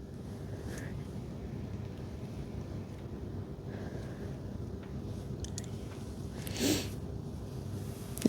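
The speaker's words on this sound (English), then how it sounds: "The wind is really picking up out there. I can hear it." Wind blows outdoors in a steady low rumble, buffeting the microphone, with a brief gust swelling near the end.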